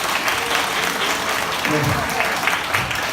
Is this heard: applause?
yes